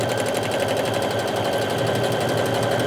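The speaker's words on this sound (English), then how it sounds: "you pull the buttonhole feature down and then you press the presser foot and it does it all for you" A sewing machine stitches a buttonhole automatically, a loud close rapid mechanical chatter running at an even pace throughout with no pauses or voices.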